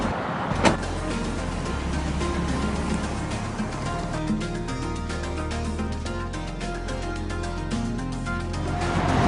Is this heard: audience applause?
no